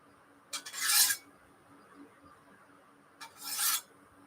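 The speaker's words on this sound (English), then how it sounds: "proper steel on steel noise" Two separate scrapes of steel on a steel blade, each about half a second long, with a quiet pause between them. The rasp is bright and clear, with no voices.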